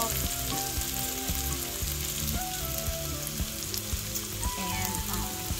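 Okra and onions fry in a pan with a dense, constant sizzle and crackle, punctuated by close clinks and scrapes of stirring.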